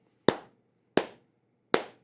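Three sharp, deliberate hand claps ring out one at a time, evenly spaced under a second apart, close and crisp with brief decays and no talking.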